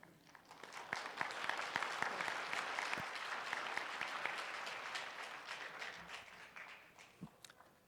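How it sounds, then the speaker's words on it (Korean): A church congregation applauds after a prayer during a Sunday worship service, a dense, steady wash of many hands clapping for about seven seconds with a few sharper individual claps, then thinning out near the end. "박수 소리가 좀 적은 것 같습니다."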